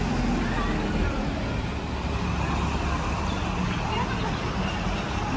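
School buses pulling out past DPS Srinagar, a dense continuous roar of engines and road traffic close by, steady throughout with no clear speech.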